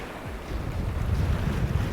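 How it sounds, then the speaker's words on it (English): A light wind rumbles steadily across the microphone on the Northumberland coast during a shore fishing trip, with a constant low buffeting over faint sea noise and no talking. "I've got a fairly light southeasterly wind coming sort of in my face"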